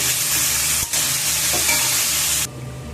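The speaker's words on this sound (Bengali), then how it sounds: "এখানে এখন দিয়ে দিচ্ছি আমি আলু একসাথে সব ভালোভাবে নাড়াচাড়া করে নেব" Potatoes frying in a pan while being stirred, a loud, close, continuous sizzle with a brief dip partway through that cuts off near the end.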